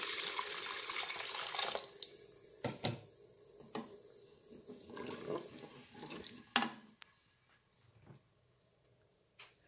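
Tap water runs into a pan while cooking penne al baffo, several bursts of pouring and splashing over a soft background sizzle, with brief clatters between them before it fades near the end.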